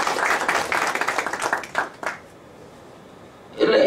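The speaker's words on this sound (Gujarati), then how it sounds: "આપણે ફરી અમને તાળીઓના ગળગડે બતાવીએ." Audience applause at a talk or gathering, a dense burst of clapping that fades out within about two seconds, followed by quiet room tone and a short noise at the close.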